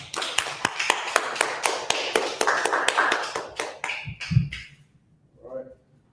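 A class audience at a law class in Philadelphia claps together in a dense, lively burst that fades out after about four seconds, followed by brief talk and a quiet pause.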